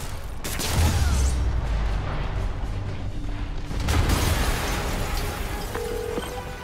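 A big explosion in Marvel's Spider-Man opens with a sharp blast and heavy low rumble, then a second booming burst follows a few seconds later before the sound settles into a fading tail.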